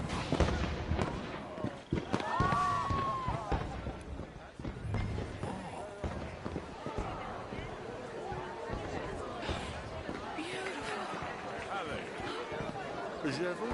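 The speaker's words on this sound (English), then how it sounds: "Let me enjoy the fireworks." Fireworks go off at a night party in the Red Dead Redemption 2 video game, with cracks, bangs and whistling rises scattered throughout, layered with crowd chatter and people talking nearby.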